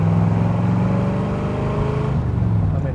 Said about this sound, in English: One more time for the little Corvette V8.